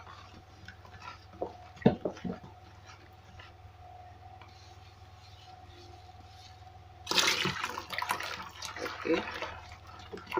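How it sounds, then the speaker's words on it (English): Containers being rinsed at home after mixing soda ash for homemade bleach: running water splashes loudly for the last few seconds after quieter handling, with a person speaking briefly earlier. "So let me rinse all the containers."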